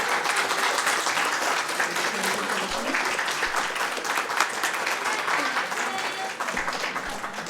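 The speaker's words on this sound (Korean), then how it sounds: "여러분들 박수로 축하해주세요." A church congregation in New Jersey bursts into sustained, loud applause to celebrate a student's graduation. The dense clapping holds steady from start to finish.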